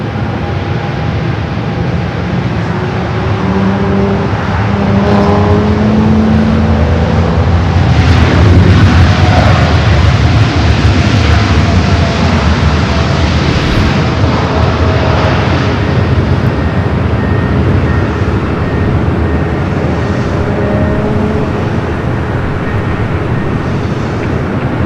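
Airliner taking off from the north side of Los Angeles airport (LAX), a loud, continuous jet engine roar that swells and holds steady for the whole stretch.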